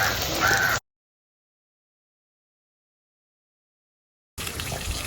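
Crows cawing outdoors near a home kitchen in Jaffna, brief calls at the start and again at the end with a long silent gap between.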